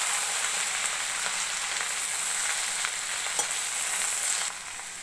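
Spiced okra sizzles steadily in a pan as it is stirred, a dense, close frying hiss with a few soft scrapes, easing slightly near the end; no voices.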